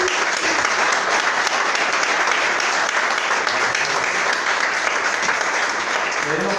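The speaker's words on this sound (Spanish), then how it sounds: "¿Le puede dar un aplauso fuerte al Señor?" A church congregation at a Sunday service claps loudly for the Lord, dense and sustained applause that fills the room without pause from start to finish.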